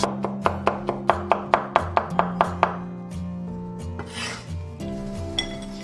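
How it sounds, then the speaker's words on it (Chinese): A knife cuts a small piece of carrot into thin strips on a board, with a quick run of about a dozen crisp, evenly spaced chops, then quieter scraping and shuffling. "一小节胡萝卜切丝，"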